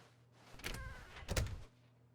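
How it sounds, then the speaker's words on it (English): A door swings open in The Stanley Parable, a short muffled mechanical movement with two soft thuds about half a second apart over a quiet room tone. "I thought I heard that door open."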